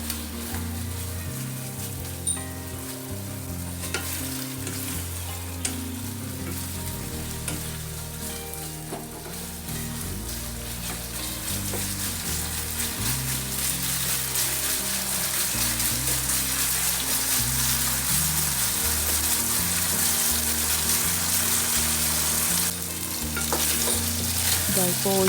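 Chicken pieces sizzle and crackle in hot oil for chilli chicken, a steady dense frying hiss with occasional stirring scrapes, loud and close throughout with no talk.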